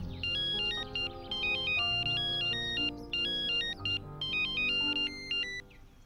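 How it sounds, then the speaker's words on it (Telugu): A mobile phone plays a bright, repeating melodic ringtone close by, its electronic notes looping in quick phrases for several seconds with no talk over it. "అన్నా వాడు ఫోన్ రింగ్ అవుతుందే."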